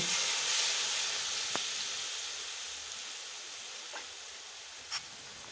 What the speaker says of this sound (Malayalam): നമുക്ക് ബാക്കി എണ്ണയിലേക്ക് ഇട്ട് ഇങ്ങനെ കോരി കോരി എടുത്താൽ